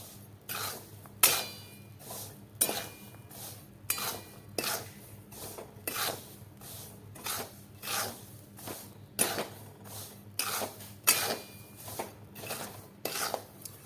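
Raw peanuts roast in a pan over a low gas flame, stirred constantly, giving a regular series of scraping, rattling strokes every second or so, close and moderately loud.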